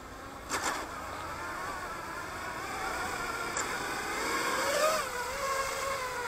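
Motors of a Sky-Hero Anakin P5 quadcopter drone on its maiden flight in near-windless air, a steady mid-distance whir that rises and swells in pitch toward the end with a slight stutter.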